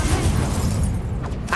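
A Confringo blasting spell bursts in Hogwarts Legacy, a heavy, rumbling boom with a muffled low-end roar that fills the whole short moment at steady loudness.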